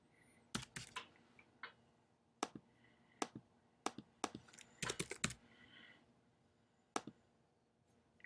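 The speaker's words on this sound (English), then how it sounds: "type in an invalid email" Typing an email address into a web form on a computer keyboard, scattered close key clicks in short bursts and single taps, quiet with no talk.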